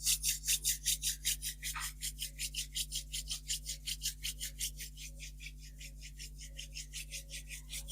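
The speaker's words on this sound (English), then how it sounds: "Let's rub our hands together to bring energy to our hands." Two hands rubbing briskly together in a quiet room during a meditation session, a fast even run of dry swishing strokes, loud at first and then steady, with no speech.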